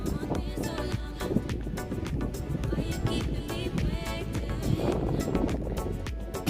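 Wind gusts steadily over an open onion field in a hilly village, a loud continuous rumble of buffeting air hitting the microphone, with no breaks across the whole stretch.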